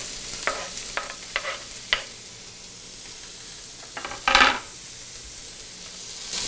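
Onion frying in olive oil in a pan, a quiet sizzle punctuated by a series of short scraping stirs and one louder hissing burst near the end.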